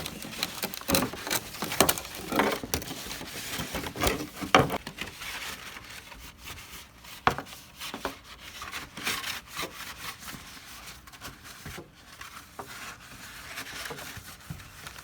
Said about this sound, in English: rubbing alcohol on the paper towel and just clean any grease or oils that might be on the body